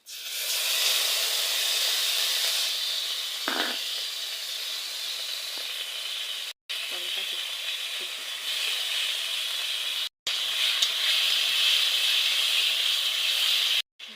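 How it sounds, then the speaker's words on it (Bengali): Cumin seeds and bay leaves hitting hot oil while cooking a banana-stem ghonto with fish give off a steady, loud, close sizzle and hiss. It runs nearly unbroken for the whole stretch, with only brief dropouts and no talking. "তেলের পরে দিয়ে দেবো জিরে তেজপাতা দিয়ে দেবো মশলা দিয়ে"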